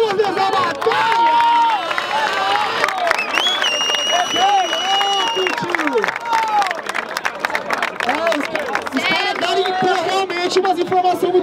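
A live rap battle crowd bursts into applause, clapping and cheering loudly, with shouts, whistles and voices rising over the noise throughout.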